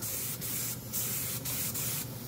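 An HVLP spray gun, turned way down inside a spray booth, lays on urethane auto paint from a full-sized air compressor: a steady close hiss of atomizing air with several brief surges, heard alone.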